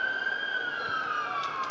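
Emergency vehicle siren sounding around a city centre near a cricket ground, a steady, fairly loud wail with a slowly falling pitch, carrying on without any voices.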